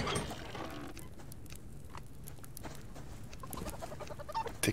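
A chicken clucks in the survival game Subsistence, giving a few short, scattered clucks over a faint steady background, close and moderately quiet with no talk.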